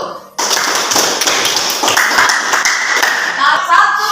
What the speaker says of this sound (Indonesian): tepuk tangan buat kelompok 1